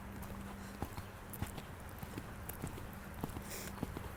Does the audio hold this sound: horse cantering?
yes